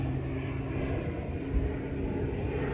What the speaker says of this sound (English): Been following me around all day, this plane, I tell you.